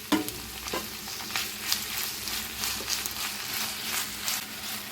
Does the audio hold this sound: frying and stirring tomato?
yes